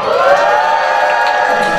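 A crowd of children at a Golden Bell quiz show during a university spring camp cheering and shouting together in one loud, sustained roar.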